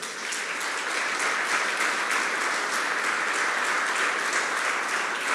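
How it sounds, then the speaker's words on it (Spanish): A church congregation claps steadily throughout, a dense, even wash of applause with no break, moderately loud and filling the room. "Dale un aplauso al Señor."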